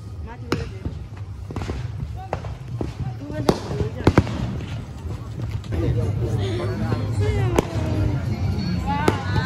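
Fireworks and firecrackers bursting at a Chhath festival fair in Bhadrapur, sharp scattered pops and bangs, some close and loud, over a crowd's babble and nearby talking.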